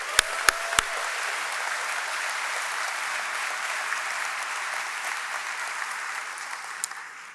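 Steady audience applause rolls through a university commencement ceremony hall, a few sharp close claps at the start, then a broad, even wash of clapping holding at moderate volume throughout.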